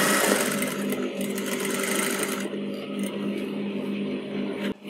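A sewing machine runs steadily and close up, stitching the collar lining of a kurti with a continuous whirring buzz that eases off slightly partway through, then ends with a brief click.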